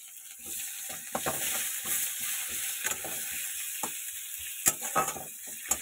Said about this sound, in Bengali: খানিকটা জিরে, কড়া কড়া করে জিরেটা ভাজা হোক, ফোড়নে দিলাম, আর দিলাম একটা হাফ পেঁয়াজ